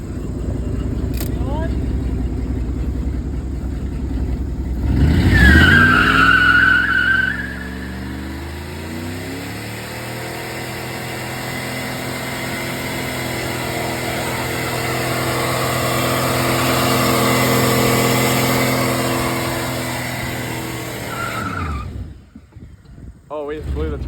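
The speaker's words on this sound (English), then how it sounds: "Oh, we just blew the turbo. I just blew that turbo." A junkyard truck engine with a freshly blown turbo runs loudly up close, rising in a surge and then settling into a sustained roar with a shifting whine before cutting off at the end.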